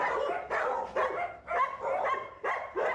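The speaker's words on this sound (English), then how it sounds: "funded the vaccination for rescue dogs looking for homes" Rescue dogs waiting for homes in San Cristobal de las Casas bark in a quick run of about six loud, sharp barks, some with a whiny edge, fairly close by.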